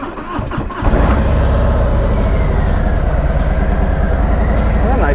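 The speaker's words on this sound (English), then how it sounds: "let's go ahead and start the bike up and go" A Harley Street Glide motorcycle fires up, then settles into a loud, steady, close engine drone as it pulls away, with faint chatter heard before the start.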